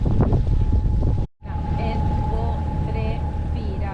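A sailboat runs under engine power in a rain shower, with a steady low motor hum and a constant tone under wind buffeting. A brief dropout breaks it, and faint voices come over it.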